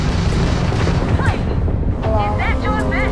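Starfield space combat, with loud, continuous booming gunfire and blasts in a dense, heavy roar, rising sweeps and chirps of ship weapons layered on top, and a voice speaking over the fight.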